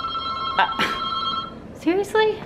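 A hotel room telephone rings in short electronic bursts with steady tones, with brief voices cutting in between the rings.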